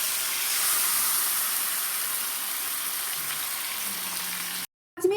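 Chicken sizzles in a pan of browned fried onions, giving a steady close hiss and crackle for several seconds before cutting out, with no voices.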